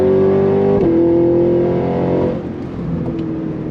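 A supercharged Cadillac Escalade-V SUV accelerates hard, its engine note loud and sustained at a high droning pitch, then easing off slightly toward the end as traction control intervenes.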